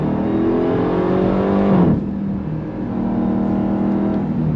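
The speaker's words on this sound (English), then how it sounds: "It's all real deal, Holyfield exhaust note, and that wonderful, glorious V8 supercharger sound" Supercharged V8 of a 2025 Dodge Durango Hellcat Hammerhead SUV revving hard, a loud rising roar with supercharger whine that drops sharply and then holds a steady throaty drone.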